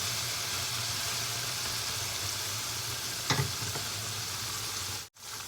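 Pork belly frying in fish sauce in hot oil, a steady close hiss and crackle of sizzling throughout, with a brief scrape of stirring near the middle.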